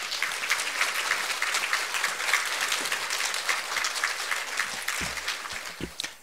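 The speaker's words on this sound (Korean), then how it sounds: "그럼 큰 박수로 모시겠습니다." An audience at a school admissions-preparation lecture gives a big round of applause to welcome the guest speaker, a steady, dense patter of many hands clapping for several seconds that thins near the end.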